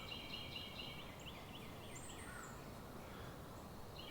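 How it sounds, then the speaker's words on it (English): Birds sing in a garden near blooming bromeliads on a cool late-winter day, with thin high chirps and trills scattered faintly over steady broadband background noise. "Listen to the birds."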